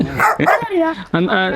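A person imitates a dog yelping after being hit by a stone, with a few loud, yelping barks in quick succession, close up.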